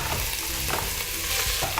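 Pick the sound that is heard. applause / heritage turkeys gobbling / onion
onion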